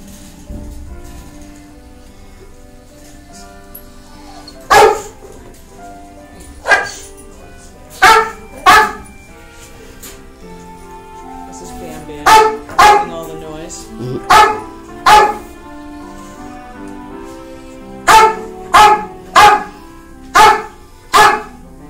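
Dogs at an animal shelter barking in scattered single and clustered yaps over a quiet background hum, some sharp and close, in an echoing indoor space.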